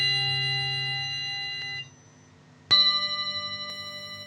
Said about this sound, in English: I found that if I took one of these mallets and hit these steel thingies,